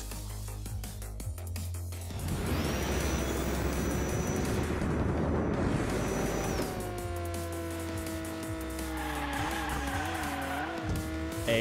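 Toy-style race car in the Hot Wheels Unleashed racing game drifting around a track, with a steady loud engine drone and a long tire squeal that rises and warbles during the slide, no talking.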